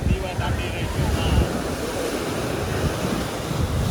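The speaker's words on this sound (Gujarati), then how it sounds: "પાણીની લહેરું ને મોજાના તમે અવાજ સાંભળો" Sea waves wash against the shore beside the Kartik Swami temple near Rameshwaram, a loud, continuous broadband surf rush with buffeting wind noise on the microphone and no break.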